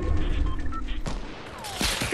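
Rapid bursts of gunfire from a Fortnite match, a loud cluster of shots followed by a sharp crack and another burst near the end, with game sound effects around them.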